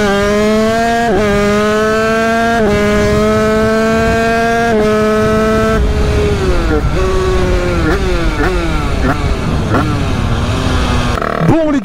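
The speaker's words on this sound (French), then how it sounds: "2-3 accélérations avant d'arrêter la petite session wheeling" A motorcycle fitted with a shifter pulls away from a standing start during a wheelie session, its engine revving hard and climbing through several quick upshifts, loud and close, with a roaring pitch that rises and drops at each gear change.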